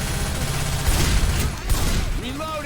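Rapid gunfire from an Uzi and a shotgun in a Left 4 Dead 2 competitive match, a dense continuous fusillade of shots with game effects layered over it.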